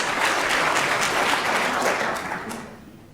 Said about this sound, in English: I'm sure this magnificent Crucible audience will give both players a round of applause